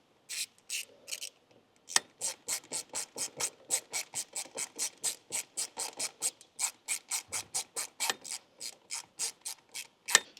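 A ratchet tightening valve cover bolts on a Ram 2500 with a billet valve cover: a steady run of rapid, evenly spaced clicking strokes, close and distinct, after a few brief starts and a short pause, with no talking.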